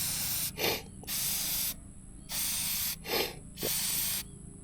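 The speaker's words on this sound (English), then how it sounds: "now you want to get your oil and kind of start spraying it in" Aerosol filter oil is sprayed onto a clean K&N air filter in three sustained hissing bursts separated by short pauses, close and fairly loud.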